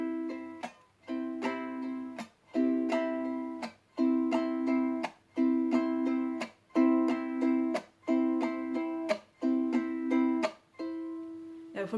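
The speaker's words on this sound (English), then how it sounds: "So that's pretty much how I do the mute strum." Ukulele played in a down-up-chunk-up strum, ringing chords broken by short percussive muted chunks in a slow, even rhythm, close and alone.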